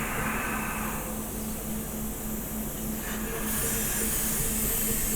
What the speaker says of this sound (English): I'm going to hit it with some air to give it a bit of a drying off